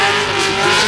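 A Toyota GR Supra drift car works its engine hard while coming down the hill at a Formula Drift Atlanta competition, producing a loud, steady, close engine roar that holds throughout.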